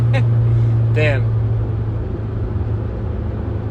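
A car with a loud exhaust rumbles steadily in a low, droning tone, with a brief voice cutting in near the start.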